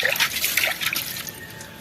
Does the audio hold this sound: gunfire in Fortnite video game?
no